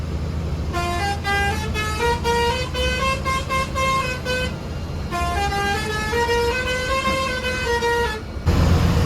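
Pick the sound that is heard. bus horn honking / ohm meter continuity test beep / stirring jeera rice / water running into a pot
bus horn honking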